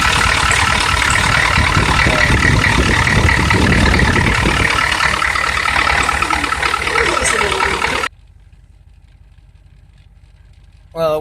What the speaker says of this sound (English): But for the most part, my RPMs are steady. Idle's nice and smooth.